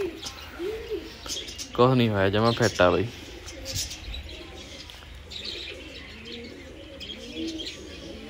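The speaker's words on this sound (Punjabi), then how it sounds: "ਕਬੂਤਰੀ ਘਰੇ ਆ ਗਈ" A pigeon coos at home in a village during a pigeon-flying event, a close burst of rolling coos that stands out among scattered chirps and background noise, while someone speaks around it.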